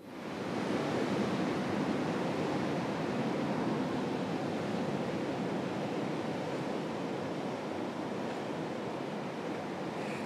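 Ocean swell breaking steadily on the shore at Nias, a continuous loud wash of surf with no distinct gaps, carried alone without voices.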